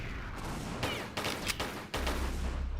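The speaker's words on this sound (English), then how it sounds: "I have to shoot it with the pistols." A handful of separate pistol shots sound in Tomb Raider III Remastered, spaced irregularly over a steady game backdrop, with a heavier burst of sound near the end.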